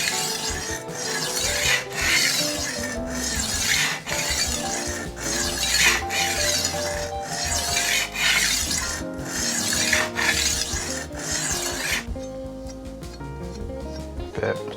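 A dull chef knife is worked across a diamond sharpening stone in repeated rhythmic rasping strokes, close and loud, with one pause between strokes near the end.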